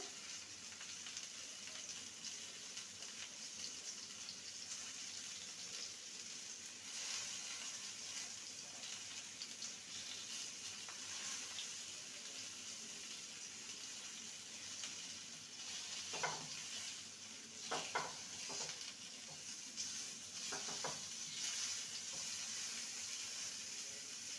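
Pointed gourds (parwal) fry in oil in a pan alongside green and dry chillies, giving a steady, fairly quiet sizzle with a few sharper scrapes and stirring clinks partway through; no one speaks.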